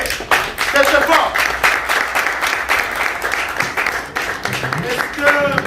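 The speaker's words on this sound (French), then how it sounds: "Si vous pouvez applaudir très très très fort, s'il vous plaît." Enthusiastic clapping from guests at a civil wedding ceremony, loud and rhythmic with sharp individual claps, while a voice speaks over it near the end.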